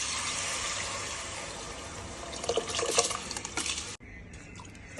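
Soaked rice and water pour steadily into a pot for prawn biryani with a continuous rushing splash, a few sharper clinks near the end, then it stops abruptly.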